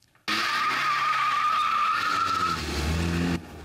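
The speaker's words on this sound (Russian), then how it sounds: "Скрип тормозов и визг покрышек." Police car brakes screech and tires squeal loudly during a police driving contest, one long continuous skid that rises in intensity and then cuts off sharply.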